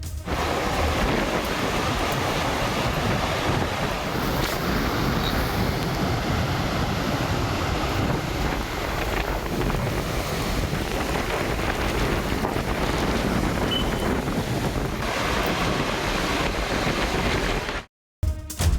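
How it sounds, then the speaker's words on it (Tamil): Flood water roars down Thirumoorthy Falls and the swollen Palar river in heavy spate, with strong wind, a dense continuous loud rushing wash that fills the whole recording without a break. "பாலாற்றில் கரை புரண்டு ஓடிய காட்டாற்று வெள்ளம் மலையடிவாரத்தில் உள்ள அமனலிங்கேஸ்வரர் கோயிலையும் சூழ்ந்துள்ளது"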